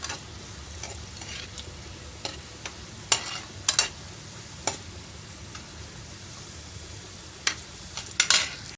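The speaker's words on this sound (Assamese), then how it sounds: "অকণমান লাল হোৱালৈকে মই ফ্ৰাই কৰি ল'ম" Food fries in hot oil until lightly reddened, a soft steady sizzle underneath with a spoon scraping and stirring the pan in sharp intermittent clicks.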